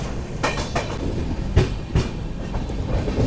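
The 12763 Padmavati SF Express pulls away from Kalahasti, its wheels beating out a steady clickety-clack with a few louder thumps over a rolling rumble, close and heard from on board.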